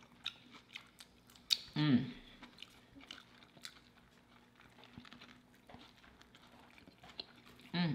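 Close, moist chewing of bacon during a mukbang eating session, with smacking bites and a louder crunchy burst near the start. A voice murmurs a short 'mmm' over the chewing.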